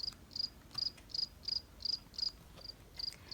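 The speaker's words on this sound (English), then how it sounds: "The small chirping crickets will soon start to sing, while Duck sleeps soundly" Crickets on a farm at night chirp in a steady, evenly spaced series of short, bright trills, about ten in a row, fairly close and clear above a quiet background.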